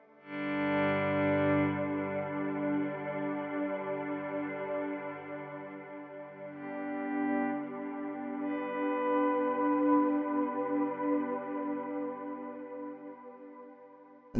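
Guitar played through a Big Sky reverb pedal using its hold function, a dense shimmering wash of sustained chord tones with lush reverb that hangs and slowly evolves, loud and unbroken throughout.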